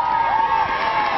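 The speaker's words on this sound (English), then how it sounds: "Keep cheering him. Keep cheering." Outdoor crowd at a police dog display cheers and whoops loudly and steadily, a dense continuous roar filling the whole moment.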